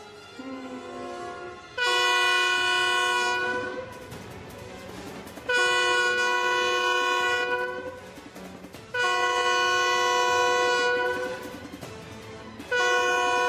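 Train horn sounding in repeated long blasts, three full ones and a fourth starting, over a rumbling rail background, loud and close with no talking.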